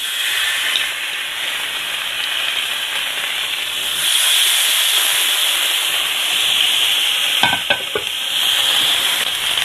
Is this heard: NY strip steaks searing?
yes